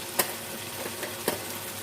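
Spiced liver (kaleji) frying in a pan with green chili, dry coriander, cumin and garam masala: a quiet, steady sizzle broken by two sharp stirring clicks.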